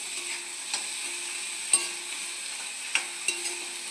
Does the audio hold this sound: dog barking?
no